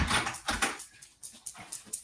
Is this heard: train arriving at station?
no